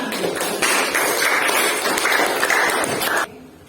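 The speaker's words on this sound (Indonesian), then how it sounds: "Tepuk tangan untuk kelompok mawar." Classroom applause for a student group after its presentation, a loud, steady round of clapping that stops abruptly near the end.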